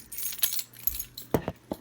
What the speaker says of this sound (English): let's unbox this using my shiny car keys